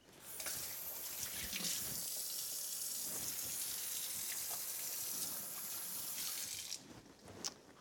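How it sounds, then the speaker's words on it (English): Running tap water splashes into a kitchen sink as hands are rinsed of ground meat, a steady close gush and hiss broken by brief clatters near the end. "Let me just rinse my hands because I just had them in all that ground meat"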